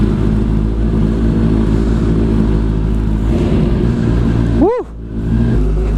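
A Kawasaki ZX-10R motorcycle rumbles loudly and steadily at idle, then gives one sharp rev that rises and falls near the end before settling back.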